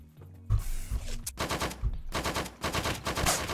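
Rapid gunfire in the Roblox game Apocalypse Rising 2, with dense repeated shots in quick bursts, fairly loud and close with no talking.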